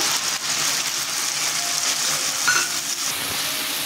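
Ginger-chilli paste, tomato paste and spices frying in a pan for a pointed gourd and chana dal dhoka curry, a steady loud sizzle with faint stirring scrapes throughout.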